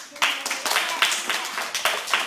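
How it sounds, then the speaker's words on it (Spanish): Children clap in a classroom during a maths lesson, giving several short bursts of applause in an irregular rhythm, close and fairly loud, with some voices mixed in. "¿Aplauso"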